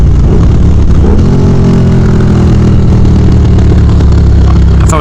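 Motorcycle fitted with a new aftermarket exhaust, its engine loud and close with a rising rev and continuous roaring drone throughout.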